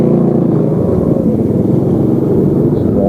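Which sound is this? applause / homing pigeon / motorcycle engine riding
motorcycle engine riding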